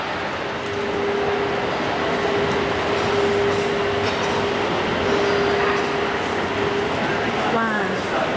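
Inside a central train station in Switzerland at night, a broad, steady wash of station noise fills the space, with a sustained mechanical tone and the rumble of trains. Voices talk over it.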